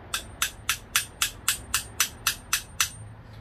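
A hammer taps a rear brake caliper bolt on a Honda Odyssey, eleven sharp metallic strikes in a steady rhythm about every quarter second, close and clear with no talk.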